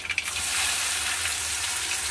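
Chopped onion hits hot oil in a kadai already seasoned with nigella seeds and sizzles in a steady, bright hiss. A few crackling pops come near the start, then it settles into an even fry.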